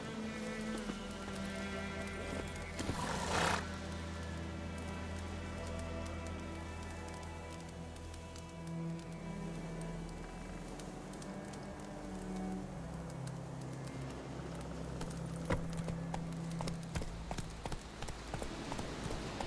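Horse hooves in a video game clip-clop at a steady walking rhythm under a quiet, continuous ambient backdrop with soft patter, no talking.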